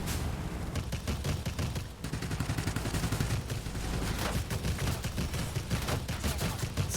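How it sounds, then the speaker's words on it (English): Rapid, dense aircraft cannon fire in the video game World of Warplanes, from an NC 1070 plane, rattles almost without pause over a loud engine drone, with sharp gunshot bursts layered throughout; no voices. "I don't want to overheat my cannons here, so I'm going to be tapping them."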